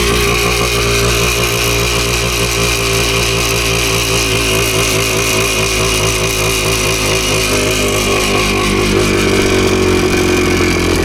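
A PE250 dirt bike sits idling on a trail outing, its engine a loud, close, continuous rumble that holds steady and shifts slightly in pitch near the end.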